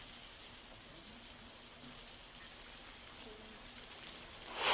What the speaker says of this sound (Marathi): जोरदार पाऊस पडतोय